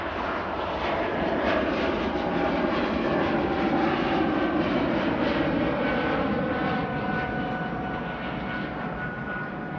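An airliner departs Manchester Airport bound for Paris Charles de Gaulle, its engines a steady broadband roar that holds loud and even throughout, with no voices over it.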